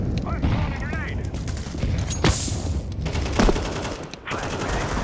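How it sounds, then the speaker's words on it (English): Gunfire and grenade blasts from a video game battle form a dense, close volley of shots and thumps with several sharp peaks, while a voice speaks over the fighting. "I'm throwing a grenade."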